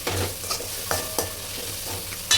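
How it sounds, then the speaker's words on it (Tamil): Spoon scraping and stirring turmeric and salt in a hot frying pan, with a soft sizzle and a few sharp clinks against the metal, close up. "மஞ்சத்தூள் உப்பும் போட்டு லைட்டாக பரட்டி விட்டுக்கலாம்"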